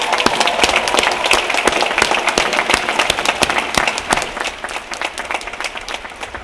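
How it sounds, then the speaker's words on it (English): Dense, loud audience applause fills a University of Virginia graduation ceremony for the Class of 2022, a continuous wash of many hands clapping that thins slightly toward the end. "I think you deserve another round of applause."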